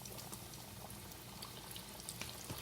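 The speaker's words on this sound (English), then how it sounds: "just drop it in the hot oil for frying" Chicken wings fry in hot oil for Buffalo wings, giving a quiet, steady sizzle with dense bubbling and occasional small pops throughout.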